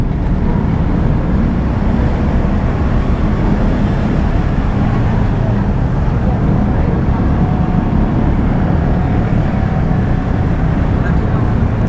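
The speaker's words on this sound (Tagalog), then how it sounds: "Talagang napaka-traffic." Heavy road traffic in Meycauayan, Bulacan, heard from a motorcycle on a long ride toward Manila: a loud, steady roar of engines and road noise that fills the whole stretch without a break.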